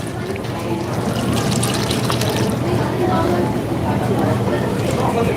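Food solids tipped from an opened container into a kitchen pan or tub during prep, a steady loose rushing pour lasting several seconds at close range, with talk heard briefly.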